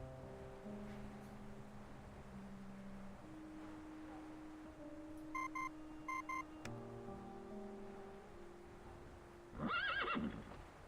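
A horse whinnies loudly near the end after a stretch of quieter game-like tones and beeps, with faint hoof clops; no galloping away is clearly evident.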